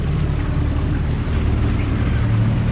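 A sailing boat under way at almost 7 knots off the Florida Keys, heading for Boot Key Harbor at Marathon, with a steady, loud rush of water and wind along the hull and dense low rumble throughout, and no voices.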